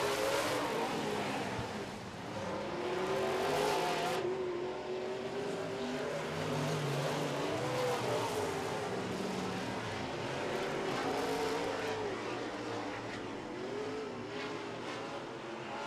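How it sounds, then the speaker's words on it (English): Modified-class race cars roar around a dirt oval track in a loud, continuous blur of engine noise, with pitches rising and falling as the cars pass. "White flag coming out for your race leader, Rick Delane."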